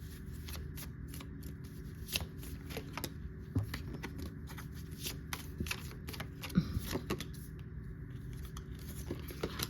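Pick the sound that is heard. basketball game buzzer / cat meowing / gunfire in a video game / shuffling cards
shuffling cards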